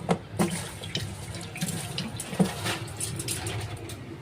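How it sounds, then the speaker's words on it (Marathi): Running tap water splashes into a vessel as rice is washed in a home kitchen, a steady close wash of water with a few sharper clinks and splashes, no talking. "तो चावल पहले धो के लेता हूँ."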